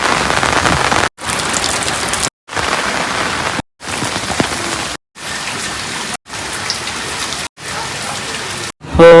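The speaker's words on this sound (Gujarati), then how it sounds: "વરસાદ કાંઈ બંધ નથી થયો ને હજી" Heavy rain pours down in a steady, dense hiss at a lighthouse, broken by several brief silent gaps, with no voices heard.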